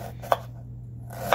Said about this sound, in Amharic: እና ከትፈዋለሁኝ እንደዚህ በስሱ ከትፈን ነው የምንጥደው